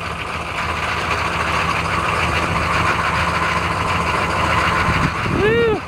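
After a cold, smoky start on a chilly morning, a diesel engine idles with a loud, steady rumble throughout, and a short whistle-like tone rises near the end.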